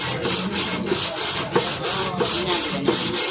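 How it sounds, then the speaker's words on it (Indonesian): Steady back-and-forth scraping of sandpaper rubbed with oil against the metal engine block of a Vario 125 scooter, with rhythmic strokes about every half second. "diamplas dulu ini bloknya dengan memakai minyak dan digosok sampai bersih"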